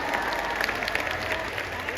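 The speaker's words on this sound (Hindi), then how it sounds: "तालियां धीरे धीरे आएंगी आपकी।" Audience applause at a live Hindi poetry and comedy stage show, a dense steady patter of many hands clapping close and loud throughout.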